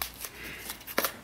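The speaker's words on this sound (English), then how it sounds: "Are you done shuffling?" Playing cards shuffled at a tabletop card game, a few brief soft riffling bursts, quiet and close, with the loudest flutter near the end.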